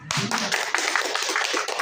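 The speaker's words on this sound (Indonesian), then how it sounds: "Oke, tepuk tangan dong." A small group in a room claps hands together after a closing greeting, a brief, close, dense patter of claps with faint voices underneath.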